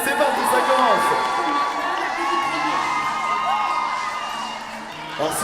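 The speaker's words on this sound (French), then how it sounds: "on peut les applaudir, les encourager pendant toute la durée du défi" A lively crowd at a Japan Expo 1-2-Switch game challenge cheers and shouts encouragement, a dense, loud wash of voices and whoops continuing steadily throughout, with children's shouts rising above the din.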